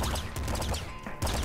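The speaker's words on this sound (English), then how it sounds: "the machine gun with just a little bit of extra rate of fire is just so much better" Rapid machine gun fire from the top-down shooter Nuclear Throne, a dense rattling burst of game shots that runs continuously, loud and close, with a brief lull near the end before firing resumes.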